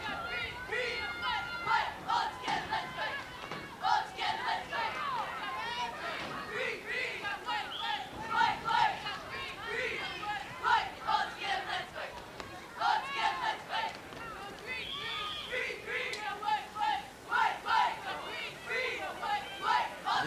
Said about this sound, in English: Nice crowd on hand, as we mentioned, for East Brunswick.